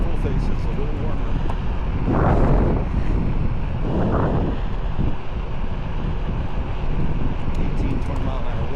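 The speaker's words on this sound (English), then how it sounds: "18-20 mile an hour wind though." Strong gusting wind of roughly 18–20 mph buffets the microphone while riding a OneWheel XRC on a cold trail, a loud continuous roar with swelling surges.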